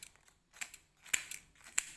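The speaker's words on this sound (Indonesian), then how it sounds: "Kita gunting menjadi kecil-kecil saja." Scissors snip through mango leaves, cutting them into small pieces, in several quick, close, crisp cuts with brief pauses between.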